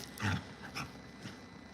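A dog at the beach gives a short playful growl, a brief rough rumble followed by a couple of fainter grunts, heard close but quietly.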